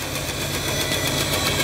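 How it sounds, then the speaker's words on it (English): Bandsaw slicing the glued waste block off the base of a segmented wooden bowl, guided by a fence: a steady, loud whirring drone with faint periodic pulsing, close by and with no voices. "use the bandsaw and a fence to cut off the waste block"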